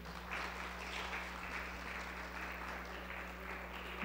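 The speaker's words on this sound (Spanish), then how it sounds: "Un fuerte aplauso para ellos, por favor." Faint, steady applause from an audience at a university panel on defending human rights, distant and low under a constant electrical hum.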